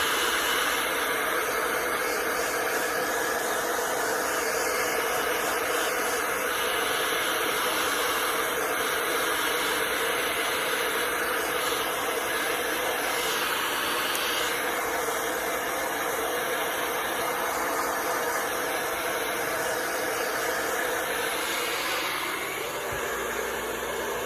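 A heat gun blows at medium heat while warming a Talon grip on a Glock 22, a steady, close, breathy hiss and motor whine that continues unbroken for over twenty seconds.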